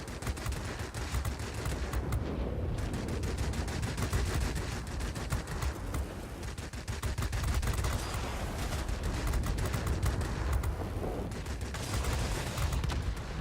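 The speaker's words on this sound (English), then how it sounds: "So you see the cannons are pretty effective." Rapid, continuous cannon fire from a Mitsubishi A7M Reppu fighter in World of Warplanes, loud and relentless over a droning engine, with only brief pauses between bursts.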